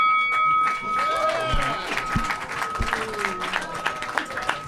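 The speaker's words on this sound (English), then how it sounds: "Big round of applause to Ken and Emeric" Audience at a comedy roast battle night in a London venue clapping and cheering for comedians Ken and Emeric, a scattered, moderately loud applause with crowd noise and overlapping voices.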